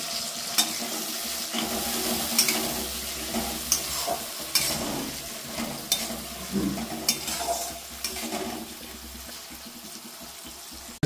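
Onions, ginger paste and tomato fry in oil for a prawn masala, a close crackling sizzle broken by repeated spatula scrapes and stirring knocks, moderately loud and uneven, with no speech.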